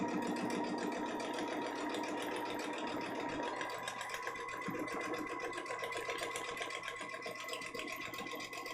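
A sewing machine runs steadily, stitching foundation paper-pieced quilt block fabric, its motor hum and rapid needle chatter continuous and close throughout, with no talking.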